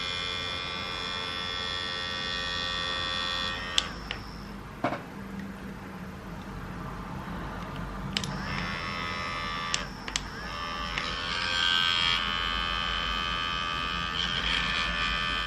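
An electric makeup brush cleaner spins a brush dry in the air over a bowl, giving a close, high-pitched whirring buzz that starts and stops several times between short quiet gaps.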